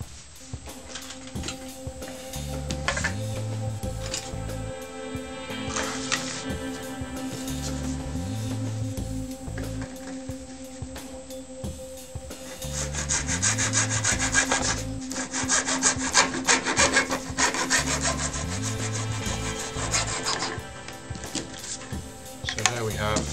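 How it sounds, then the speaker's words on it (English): A wooden side piece for a rubber band powered car chassis is sawn in half, giving steady, rhythmic rasping strokes that come close and loud in repeated bursts. "all I'm going to do is cut that in half"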